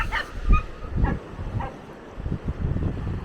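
A couple of dogs bark intermittently on a seaside coastal path in Norfolk, fairly distant and soft, mixed with wind rumble and outdoor ambience.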